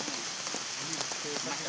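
Steady rain falls on a surface in cold weather, a dense broadband patter of drops running continuously with a few faint voices murmuring faintly beneath it.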